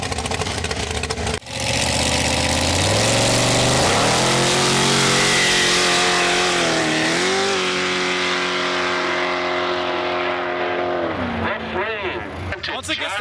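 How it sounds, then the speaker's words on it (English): A drag car launches on an ice track at a winter racing event and howls loudly through rising gear changes as it pulls away. Its engine note sweeps up again and again, with crowd voices faint underneath. "There's a full-on drag car rolling up to the line right now."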